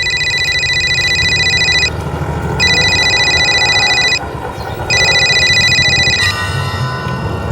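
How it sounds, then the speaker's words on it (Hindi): A telephone rings loudly in three long electronic trills separated by short pauses, followed by a click and a different tone. "फिर एकदम से अचानक मेरे पास निहारिका का फोन आ गया।"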